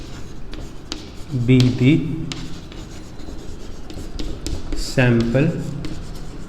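Pen strokes scratch across paper while writing out an ICSE Class 10 probability maths solution, in short bursts under someone speaking Hindi mixed with English.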